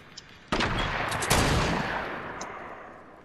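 Gunfire in a Fortnite squads match: a sudden sharp blast, then a second shot a moment later, each ringing out and decaying, moderately distant with no talk.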